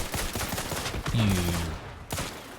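Enemy gunfire in The Outer Worlds 2 video game, a dense burst of rapid shots with a loud blast partway through, close and heavy.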